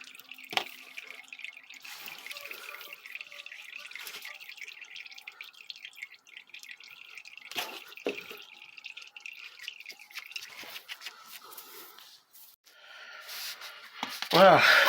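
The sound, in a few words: oil draining from 1979 Chevrolet G10 van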